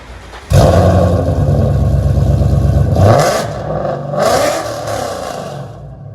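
A Ford Mustang 5.0L Coyote V8 fitted with headers barks into a loud rev, holds a throaty roar, drops back, then blips again before falling quiet, recorded up close with no talking.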